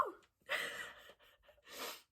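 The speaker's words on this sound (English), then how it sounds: "Hold on, I gotta sneeze." A single sneeze from a person, a quick gasping intake followed by a sharp burst, then a breathy exhale after a short pause, close and quiet with nothing else around.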